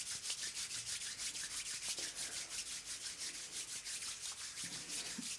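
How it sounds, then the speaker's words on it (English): A group of people rub their hands together in a classroom, making a continuous soft, dry, rhythmic swishing, close and steady without pause. "If we can start by rubbing our hands together like this."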